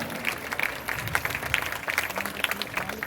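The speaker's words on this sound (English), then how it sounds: "let's give a huge round of applause for Vishwanath." Audience clapping after a speech introduction at an event, a steady patter of scattered hand claps from a modest crowd, moderately distant and continuous throughout.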